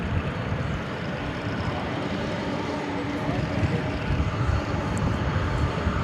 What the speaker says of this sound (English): we get a good close look at these planes as they come in and as they move out